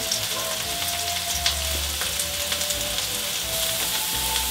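Mushrooms sautéing in hot oil in a pan, a close, continuous dense sizzle and crackle with faint utensil taps, no voices.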